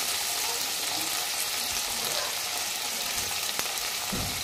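Beans, carrot, onion, capsicum and chilli fry for chowmein in a hot pan, producing a continuous loud hiss with a faint scrape near the end and no voices.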